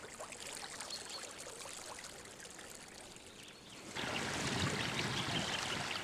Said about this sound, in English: From all directions, water is flowing into lower-lying parts of the Soomaa National Park.